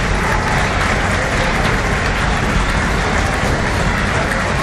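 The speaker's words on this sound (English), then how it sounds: "Crowd rallies behind Anderson" A wrestling crowd at an independent show roars and applauds for Ken Anderson, a dense, loud and continuous wash of cheering and clapping with no pauses.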